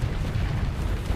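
A deep, rumbling explosion booms from a ship blowing up in the space game Starsector, a dense low roar filling the brief moment.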